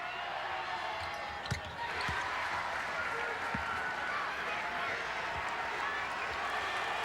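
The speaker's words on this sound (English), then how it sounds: "a lot of the local folks cheering for Utah" A basketball arena crowd at a 2006 Elite Eight game between Maryland and Utah keeps up a steady roar of cheering and applause, with sneakers and ball bounces faintly audible beneath a commentator's voice.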